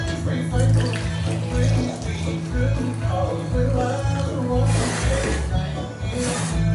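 Pickling liquid with peppercorns is poured off while mushrooms are being pickled, giving a steady, close splashing and trickling that runs through the whole stretch with brief surges.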